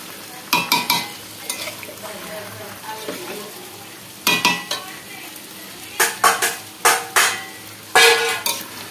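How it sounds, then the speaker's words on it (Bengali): Chicken being stir-fried and browned in a pan, with repeated bursts of spatula scraping and stirring over a steady sizzle, loud and close, coming in clustered strokes with short quieter gaps. "তো চিকেনটা কষানো হচ্ছে,"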